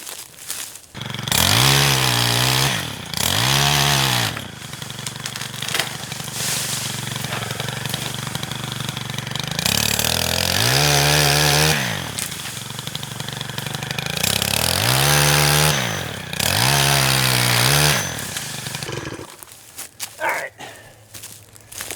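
Saw cutting back tree branches near a deer-hunting spot by a feeder: a loud, close engine revs up and bogs down in about five long surges, with a brief quiet at the end and no talk.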